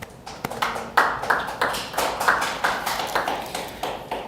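A church congregation claps during a Sunday worship service, with loud, even, rhythmic claps in unison that repeat steadily throughout.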